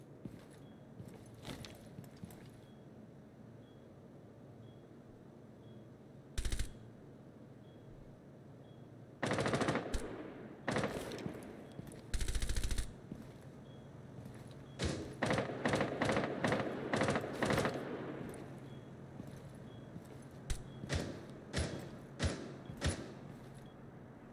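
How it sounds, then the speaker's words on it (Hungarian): Gunfire from the operator Echo's weapon in Rainbow Six Siege, sharp bursts of rapid shots spread over the span with heavier thuds between them, clear and fairly near, with no talk. "ez Echo-nak a lövés hangja, nem?"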